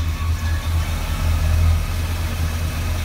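A 1974 Buick Gran Sport with a 455 engine idles with a steady, deep, low rumble, heard close and alone.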